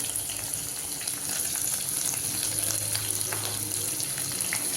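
Onion, green chili and carrot sautéing in a pan for aval upma give a steady, close frying sizzle with soft hiss that holds even throughout, with no voices.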